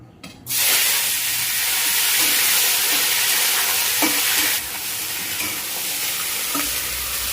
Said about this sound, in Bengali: তেল আমার গরম হয়ে গেছে, দেখেন ধোয়া উঠছে তেল থেকে। আমি ফলগুলি এবার ঢেলে দিচ্ছি।